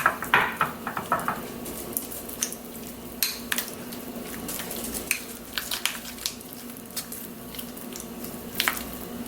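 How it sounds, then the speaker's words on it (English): A spoon works salt and black pepper into a cream cheese mixture for almond-crusted salmon. Close, soft scraping with intermittent light clicks against the bowl, no talking. "And then we are going to stir it up."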